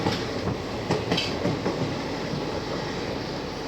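A passenger express train rolls steadily past nearby with a continuous rumbling roar and faint rhythmic clatter of wheels on the rails.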